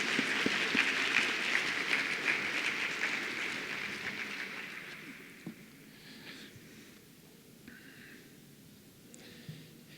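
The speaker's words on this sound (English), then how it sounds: "let's give a round of applause to our final round judges" An audience applauds the final round judges at a national debate championship, sustained dense clapping for about five seconds that fades to scattered claps and room noise.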